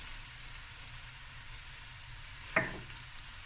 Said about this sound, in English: Just gonna let this fry for a few minutes.